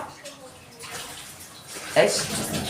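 Flattened rice (chira) is washed in water for a steamed rice-flour pitha, giving soft, faint sloshing and splashing that builds briefly near the end, with a voice talking over it.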